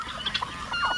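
Backyard chickens raised free-range in the Philippines give short clucks and squawks in a quick irregular series, close and fairly clear, with no talking.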